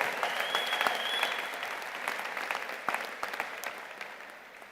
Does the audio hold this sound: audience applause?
yes